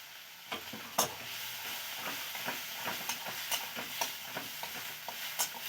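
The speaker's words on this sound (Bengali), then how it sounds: "ভালো করে ভেজে নেব" Chopped tomatoes and ground whole-spice paste fry in hot oil with cumin and chilli, giving a steady close sizzle broken by scraping stirs and occasional sharper spatters, with no talking.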